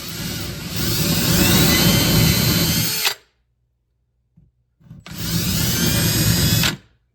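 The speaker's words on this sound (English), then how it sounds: "I'm going to be very careful with my drill using the exact spots that I just marked" Power drill with a 5/16 inch bit bores holes into an Ikea PAX cabinet door for soft-close hinges: two loud sustained whirring runs of a few seconds each, separated by a silent pause with a faint tap.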